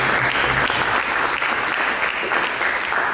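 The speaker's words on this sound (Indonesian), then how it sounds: "Mari kita berikan tepuk tangan yang mulia Yesus." A church congregation applauds in praise of Jesus during a sermon, loud sustained clapping from a full room that continues evenly throughout, with no talk over it.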